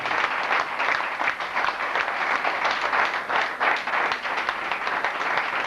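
An audience at a police foundation award ceremony in New Delhi applauds loudly, with sustained, dense clapping that stays full and even from start to finish.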